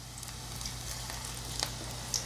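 Onion fritters (kanda bhaji) frying in hot oil give off a steady, close sizzle with small crackling pops, and no voices are heard.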